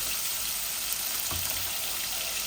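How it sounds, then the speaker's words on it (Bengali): Tilapia fries with potatoes in hot oil in a pan, giving off a faint, steady sizzle and hiss throughout. "মাছগুলা ভাজা ভাজা ওই যাক, আমি মশলা দিলাম।"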